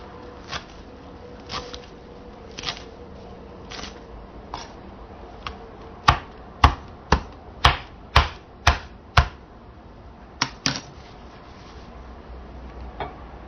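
A knife chops vegetables into chunky pieces on a cutting board for pho soup, with sparse taps early, then a quick run of sharp, close knocks before a few final cuts.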